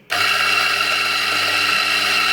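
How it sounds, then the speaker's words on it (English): A Mazzer Mini E electric coffee grinder, an older unit, grinds about 15 grams of freshly bought coffee beans. The motor kicks in suddenly and holds a loud, steady whir for the rest of the clip, with no talking. "Be grinding it in my Mazda Mini E, my old Mazda Mini E."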